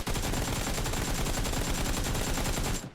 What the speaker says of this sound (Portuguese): Tô atirando pra ver se ele vai dar a cara, velho.